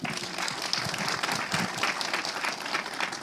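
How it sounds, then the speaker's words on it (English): An audience applauds steadily throughout at a panel event on education freedom and obstacles to schooling, with dense, even clapping from a crowd that holds at a constant level. "We can applaud that."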